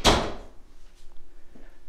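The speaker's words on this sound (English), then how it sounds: "So once you close the door," A solid door on a three-car garage in a new Summerlin home closes with one firm thud at the start, then only a quiet room tone stays.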